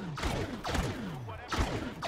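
Bursts of Star Wars Battlefront blaster fire sound in a steady rhythm of about three shots with descending zaps, close and moderately loud, in a Heroes vs Villains match.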